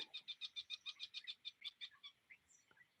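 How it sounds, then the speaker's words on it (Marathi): Common mynas calling from a tree in a rapid run of about fifteen harsh, rhythmic chattering notes, loud and close, fading into a few scattered calls near the end. "आता ज्या ओरडत आहेत त्या साळुंकी आहेत"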